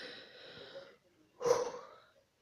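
A dog breathing agitatedly close by in two bursts, a raspy exhale then a louder snorting huff, with a short pause between and silence at the end.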